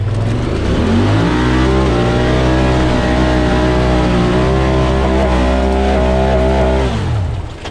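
An off-road vehicle stuck in the mud in manual mode has its engine revved hard at full throttle, a loud sustained roar that climbs in pitch, holds, then drops off at the end.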